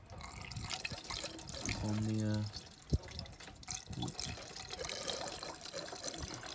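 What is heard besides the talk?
water being filled into car engine cooling system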